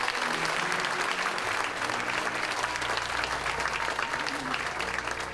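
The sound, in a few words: applause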